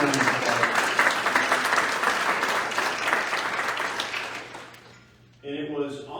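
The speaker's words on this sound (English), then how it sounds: "So can we please give Ethan and Team St. Andrews a great round of applause" Applause from an audience at a St. Andrew's School event, a dense, sustained round of clapping that fades near the end before a voice begins speaking.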